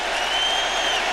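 A basketball arena crowd roars at a 1999 home playoff game for the 76ers against the Magic, a dense, steady wash of cheering and noise heard from the broadcast position.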